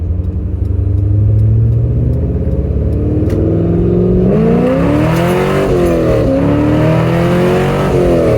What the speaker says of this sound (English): I love the burbles in this thing when you downshifts.